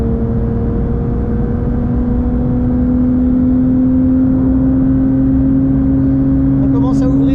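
A Porsche 911 GT3 992.1 accelerating gradually on track at Spa: a loud, continuous engine note rising slowly in pitch, heard from inside the car over a constant road roar.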